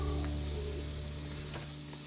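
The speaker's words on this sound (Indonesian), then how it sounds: "Kembali kita aduk-aduk sampai ikan dan bumbunya meresap ya" Tuna pieces stir-fry with chili and spices in a pan, giving a continuous moderate sizzle with a few soft scraping stirs.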